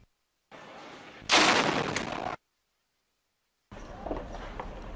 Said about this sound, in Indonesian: militer Israel merilis video pertempuran sengit Jumat malam sebelum gencatan senjata selama 12 jam diberlakukan